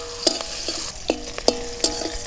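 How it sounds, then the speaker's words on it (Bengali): Sliced onions for bhindi do pyaza being stirred in a frying pan, a few sharp scraping clinks over a soft sizzle, close and brief, without talk. "পেঁয়াজগুলোকে আমি একটু লালচে করে ভেজে নেব, খুব বেশি ভাজবো না"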